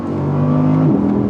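Audi R8 rear-wheel-drive engine accelerating hard, a loud close droning tone that climbs steadily in pitch, then drops back briefly around a gear change before pulling again, with no talking.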